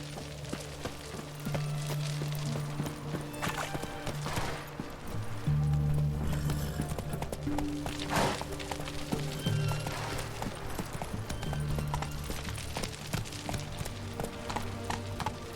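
Horse hooves gallop in a steady rapid rhythm across The Witcher 3 video game's terrain, moderately quiet and continuous, layered over a tonal musical score.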